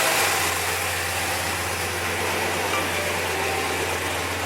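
A 1969 Oldsmobile 442 fitted with a swapped-in LS V8 idles steadily, a deep constant engine hum with a low droning throb and a broad rushing noise, alone with no talk.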